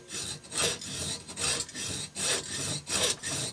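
A hand hacksaw cuts on the pull stroke, giving a steady rasping rhythm of about seven gritty strokes, close and moderately loud.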